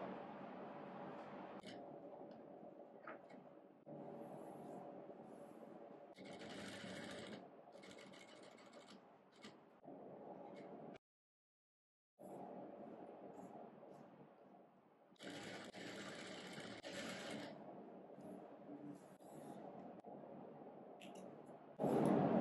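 A sewing machine stitches a side pocket onto a pair of shorts, running in steady bursts of close motor whirr with short pauses between runs and one full stop midway, with no talk over it.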